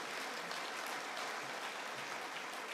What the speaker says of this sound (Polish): Duże brawa, proszę Państwa.